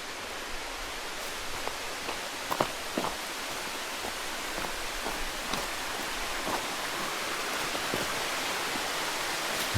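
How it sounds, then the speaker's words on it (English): Steady hiss of creek water rushing near a waterfall on Davis Creek Trail in Greenville, Tennessee, a dense constant wash with scattered faint splashes and drips, no voices. "it's literally omnipresent, the sound of the creek."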